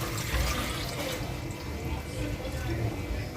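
Water pours steadily into a pressure cooker holding eggs and potatoes, a continuous close splashing rush that lasts throughout.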